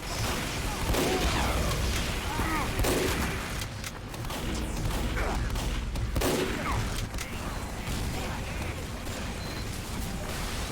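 Rocket launchers and gunfire crack and boom repeatedly in a chaotic Team Fortress 2 firefight, dense overlapping blasts continuing throughout at steady loudness.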